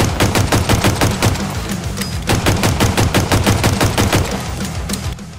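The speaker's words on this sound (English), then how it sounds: "The Mark 50 holds 12 rounds in the mag, plus 72 extra spare rounds." The Mark 50 sidearm in Halo Infinite fires a long, fast, evenly spaced string of loud shots, with a brief break near the middle before the rapid firing resumes.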